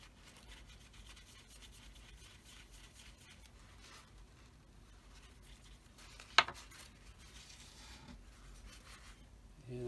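Parts of a vintage Hawk 2150A reel-to-reel tape echo machine get scrubbed with a faint, steady back-and-forth rubbing. One brief sharp tap cuts in partway through.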